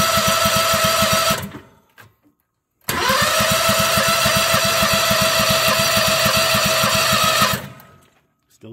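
Bobcat skid loader with a swapped-in Predator engine running with a loud, steady, rapid chugging. It cuts out briefly, then starts again and runs steadily before it stops near the end.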